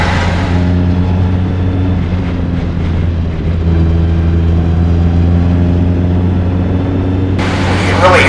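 A single-seater race car on the Mid-Ohio circuit holds a loud, steady engine drone as it fights for grip, its rear tires spinning under acceleration, with commentary voices over the engine noise.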